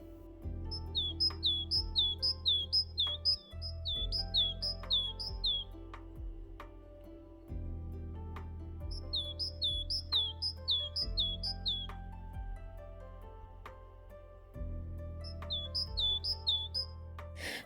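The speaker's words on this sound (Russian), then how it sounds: "днем уже мой слух ласкают свирели синиц, которых я подкармливала всю зиму" Tits sing in a spring village, repeating quick bright chirping phrases in bursts over a steady low humming tone, with pauses between the runs of calls.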